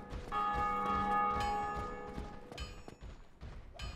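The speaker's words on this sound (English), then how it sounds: "The bell that you just heard is someone ringing the Bell of Awakening." The Bell of Awakening rings in the Dark Souls game, a heavy church-like bell toll with a long ringing decay, struck again about midway, followed by a few dull thuds.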